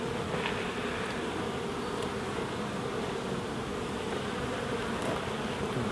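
Honey bees buzzing during a spring hive inspection of a colony with chalk brood, a dense continuous drone of many insects close by, steady throughout with no voices.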